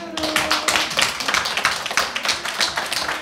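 A small group claps together after a hand-washing hygiene training session in a café, a brisk burst of close, dense hand claps lasting a few seconds.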